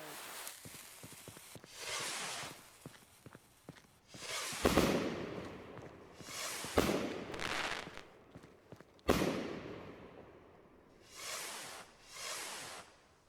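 Rockets and bottle rockets in the video game Fireworks Mania go off in a series of sharp bangs and crackling bursts, some with rising hisses, spread irregularly across the stretch.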